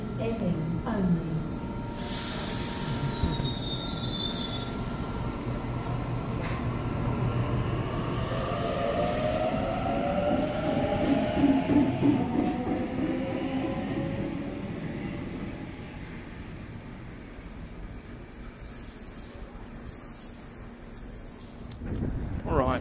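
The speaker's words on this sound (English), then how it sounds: "The train on platform 3 goes to Epping only." A Sydney suburban train at Eastwood Station on platform 3, running to Epping: a steady rumble and hiss with a rising electric motor whine in the middle, then higher-pitched mechanical tones near the end, heard from close by on the platform.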